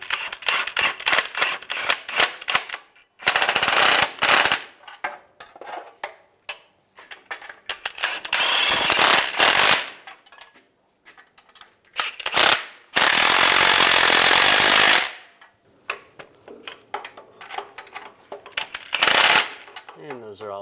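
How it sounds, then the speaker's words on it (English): A ratchet wrench tightens exhaust flange nuts on a 2007-2013 Chevrolet Silverado during catalytic converter replacement, giving bursts of rapid metallic clicking separated by pauses, with a few longer loud stretches of ratcheting. "Start on the driver's side, tighten this flange down first because this is the solid flange."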